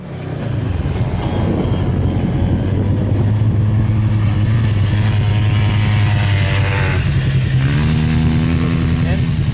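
An ATV or sand buggy tears across the Pismo sand dunes, its engine roaring loud and steady up close, shifting pitch near the end, with voices faintly mixed in.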